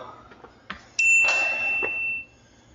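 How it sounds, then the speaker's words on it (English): A bell dings once at the close of a 300-push-up home workout, a bright ringing tone that sustains for about a second before cutting off, preceded by a few soft knocks. "Oh, and give me that final bell."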